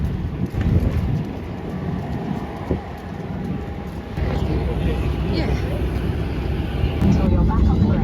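Steady, loud low rumble of an airliner cabin waiting to take off from Alice Springs, Australia, with engine hum filling the whole stretch and murmuring voices mixed in.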